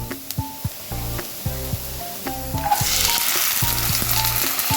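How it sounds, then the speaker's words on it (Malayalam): Chopped cluster beans drop into a pan of softened frying onions, raising a steady close sizzle that swells louder and brighter partway through, with a low tonal hum and a few clinks of stirring over it. "നമുക്ക് നുറുക്കി വെച്ചേക്കണ കൊത്തമര ഇട്ട് കൊടുക്കാം"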